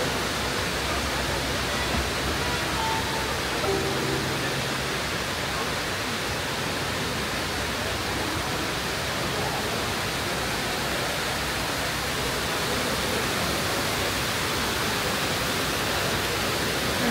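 A constant rushing roar of falling water fills the whole stretch, dense and unbroken, like standing near a waterfall near Dubai Mall.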